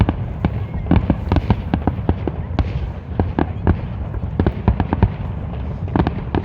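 Victoria Day fireworks display in Toronto: a dense, continuous barrage of sharp bursts and booms, loud and steady throughout, with overlapping crackles and rumbling echoes.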